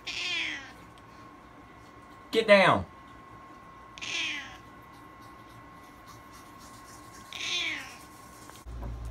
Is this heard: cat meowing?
yes